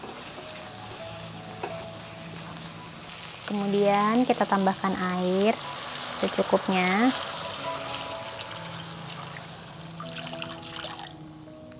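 Water poured into spice paste frying in a pan for sambal goreng krecek sets off two loud bursts of crackling sizzle that gradually settle, with someone talking before and after.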